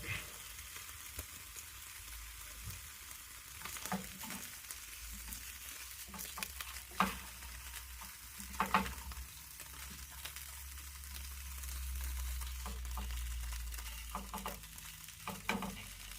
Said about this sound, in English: Probably toast the bread in the pan so that it's got a bit of butter on it.